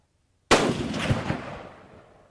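A single loud rifle shot fired on a 200-yard range, with a sudden sharp blast followed by a long rolling echo that fades out.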